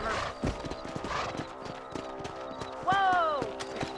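Horse hooves clip-clop at a steady gallop in Red Dead Redemption (2010), close and rhythmic, with a horse's whinny rising near the end over ambient game sound.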